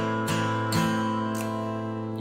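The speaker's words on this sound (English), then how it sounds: "you could also play it with a really nice strum pattern that sounds like this." Acoustic guitar strummed in a lilting 6/8 pattern for House of the Rising Sun, three clear strokes with sustained ringing chords between them, close and moderately loud with no voices.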